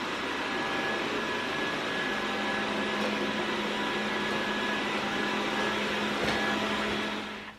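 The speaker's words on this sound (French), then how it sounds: "vous voyez l'aspirateur passer en mode standard et vous pouvez voir qu'il est franchement silencieux même en mode standard" A robot vacuum cleaner runs in standard mode indoors, giving off a steady, fairly quiet whirring hum with a faint constant tone that holds evenly throughout, with no voices.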